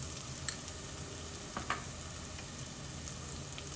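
Onions fried in a pan as the base for a curry, giving a soft, steady sizzle up close with a couple of faint clicks of a spoon or pan, and no talking.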